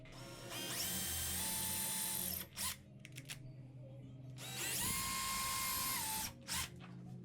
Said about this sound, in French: Et je fais tous les trous d'un coup.